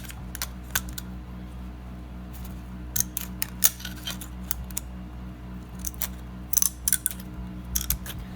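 Tin snips cut away the rim of a homemade bicycle chain cleaner, a scattered series of short, crisp metallic snips and clicks, some in quick clusters, close up over quiet room hum with no talking.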